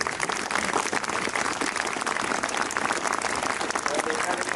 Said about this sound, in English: Gentlemen, I think a great round of applause would be highly appropriate.